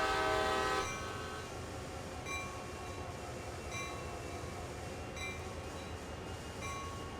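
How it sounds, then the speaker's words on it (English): CSX GP40-2 diesel locomotives couple in Train Sim World on a heavy haul line; a short horn-like tone opens, then a steady low engine rumble carries on with faint clanks, with no talking. "Couple to formation as indicated. I can do that. Picking up 2 more locomotives."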